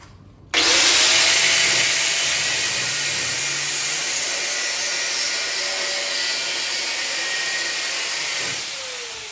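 A power saw cuts through wood in an old workshop, starting abruptly and holding a loud, harsh, steady whine for several seconds before tapering slightly at the end.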